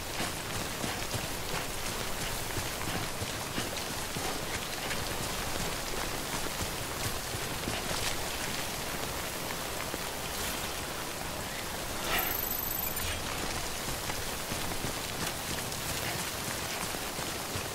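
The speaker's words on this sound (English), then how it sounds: "Don't stay out in the rain any longer than you have to." Timefall rain in the video game Death Stranding, a steady, dense downpour hissing and pattering on surfaces, constant and fairly loud throughout with no voices.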